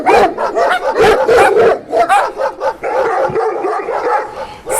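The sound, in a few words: dogs barking while chasing a jackal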